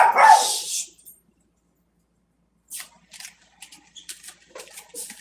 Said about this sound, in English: So he's gonna bark.